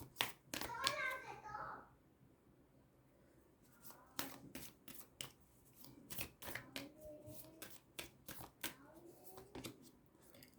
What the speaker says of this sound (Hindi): आपको सफलिंग नहीं देखनी हो तो आप स्किप कर सकते हो।